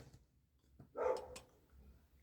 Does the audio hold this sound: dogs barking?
yes